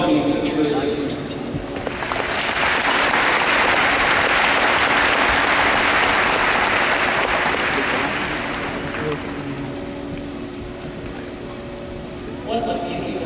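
Graduation audience applauding to welcome a speaker, a sustained wash of clapping that swells, holds for several seconds, then fades, with voices around it.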